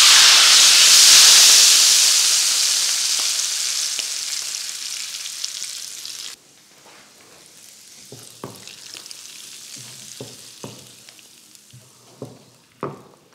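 Red chili powder tempering hits hot oil for Lahori murgh chanay, first a loud steady sizzle and hiss, then after a sudden drop a quieter crackle with scattered sharp pops and stirring knocks.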